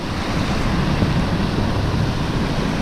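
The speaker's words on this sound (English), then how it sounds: "The old rollers coming in up there." Sea rollers break onto a beach near Eastbourne at night, a loud, constant roar of surf with wind noise and no speech.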